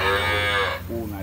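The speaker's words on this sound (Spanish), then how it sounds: "ese precioso, precioso toro que estamos en este momento aquí mostrándolo" A bull in a corral gives a loud, close moo, a sustained low bellow that breaks off and then trails into a shorter second call.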